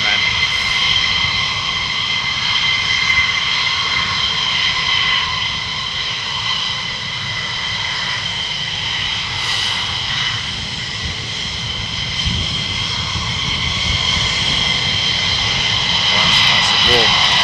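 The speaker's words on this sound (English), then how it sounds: "Full afterburner treatment here, man." F100 jet engines running on full afterburner at RAF Lakenheath, a loud sustained roar with a tonal whine that holds steady throughout, heard from nearby.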